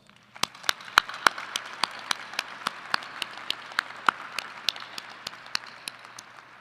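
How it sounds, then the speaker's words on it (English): An audience applauding at a spring doctoral, MFA and medical degree commencement ceremony: a steady wash of clapping from a crowd, with sharp individual claps standing out on top, moderately loud and with no speech. "Can we once again give you a round of applause?"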